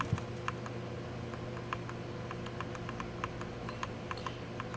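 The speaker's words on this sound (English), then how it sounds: "I'm using this half-size gaming keyboard that I just bought" Typing on a half-size gaming keyboard, quick irregular key clicks and taps, faint and close over a low steady background hum, with no one talking.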